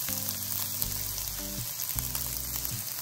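Curry leaves and sliced onion sauté in hot oil for a banana flower cutlet, a soft, steady sizzle under a low, humming tone that swells and fades.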